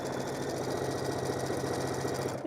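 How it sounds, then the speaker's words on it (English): A sewing machine runs steadily, chain stitching quilt fabric for no-hassle triangle quilt blocks with a quarter-inch seam, its motor hum and rapid needle clatter holding an even, close, continuous rhythm with no talk. "you're going to sew a 1/4 of an inch on both sides"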